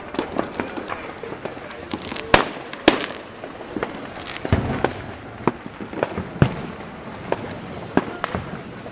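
Fourth of July fireworks seen from a rooftop, a series of sharp cracks and firecracker pops at irregular intervals, some loud and near, others fainter, with people talking in the background.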